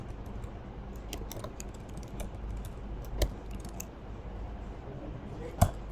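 Keystrokes on a computer keyboard while an email address is entered into a password reset form: sparse, faint clicks scattered over a steady low background hum, with a couple of slightly sharper taps.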